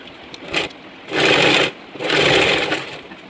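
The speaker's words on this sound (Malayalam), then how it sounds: "അതിൻ്റെ അറ്റത്ത് കൂടെ ഒന്ന് തയ്ച്ചെടുക്കണം മടക്കിയിട്ട്" A sewing machine stitches along the edge of a folded churidar piping strip in three close, buzzing runs: a brief first burst, then two longer steady runs separated by short pauses.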